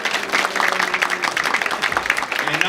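Audience applause at a Japanese Consulate General event in Atlanta marking 50 years, dense continuous clapping from a room of people, steady and moderately close with no talk over it.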